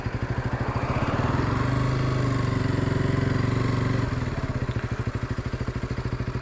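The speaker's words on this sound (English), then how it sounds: "so we're going to try and do a 0-60 on this KTM RC125." A KTM RC125 motorcycle engine idles steadily, a close, loud, even pulsing chug that swells slightly in the middle before settling back to its regular beat.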